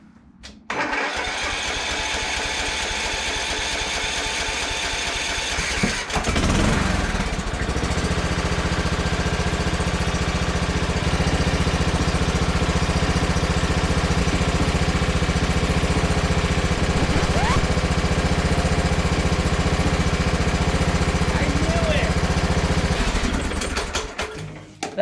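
A Toro Timecutter SS4200 zero-turn mower engine cranks and fires on full choke, then settles into a loud, steady idle that runs close and continuous until it cuts off near the end.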